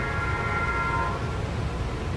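A tram horn, the speaker's favourite model, sounds a sustained multi-tone blast over a low rumbling background, then cuts off partway through while the rumble continues.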